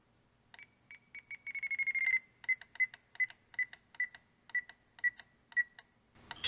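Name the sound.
radio transmitter audible trim-centering alarm beeps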